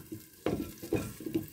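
Pork chops frying in a hot pan, a steady close sizzle broken by three short bursts of louder crackling and stirring scrapes.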